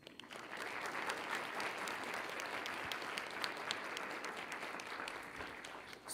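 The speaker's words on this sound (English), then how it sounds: "Please join me in a big applause for thanking the panelists." An audience at an AI safety standardization panel event claps for the panelists, a steady, dense burst of applause heard at some distance that fades at the end.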